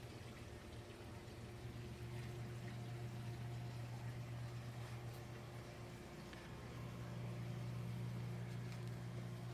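Water from a large 720-gallon aquarium's filtration system runs through a sight gauge toward a house drain, a steady continuous rush and trickle with a low hum underneath, holding constant for the whole stretch.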